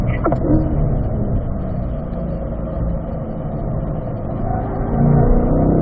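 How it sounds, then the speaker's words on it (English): Track car accelerating out of a corner, its loud engine note a steady close roar from the cockpit that swells slightly toward the end, with no talk heard. "Lift off the throttle to bring her in and accelerate out to the right."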